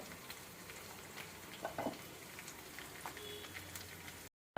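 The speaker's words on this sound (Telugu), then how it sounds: "ఒక 1 మినిట్ కొంచెం మగ్గే వరకు ఇలాగా కలిపెట్టుకుంటూ ఉందాం." Onions with seasoning seeds fry softly in oil for a chana dal cabbage curry, a faint steady sizzle with light crackles and occasional scraping stirs, quiet and close, ending abruptly in silence.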